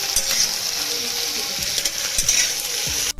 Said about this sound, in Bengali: এটা হলুদ দিয়ে ভেজে নেবো